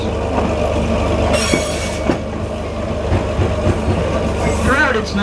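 Narrow gauge railroad car riding the Pine Creek Railroad loop at Allaire State Park, a converted former standard gauge car, with a steady loud rumble of wheels on track, occasional squeals and rhythmic clicks throughout.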